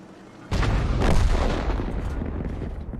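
A single heavy tank cannon shot booms out loud and close in a tank battle game, with a rumbling tail that slowly dies away over a few seconds.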